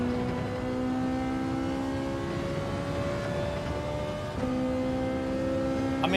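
Mazda race car engine in Gran Turismo 7, a steady droning engine tone holding near-constant revs, with a brief dip and shift in pitch partway through.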